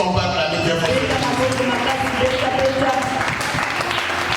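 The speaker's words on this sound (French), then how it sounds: "Est-ce qu'on va acclamer très fort?" An audience in a French-speaking gathering applauding and cheering, a sustained wash of clapping and crowd noise mixed with voices, loud and steady throughout.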